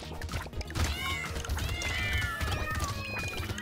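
Cat meowing in the video game Brotato, with repeated mewing calls sliding over busy game music and effects, moderately loud and fairly continuous.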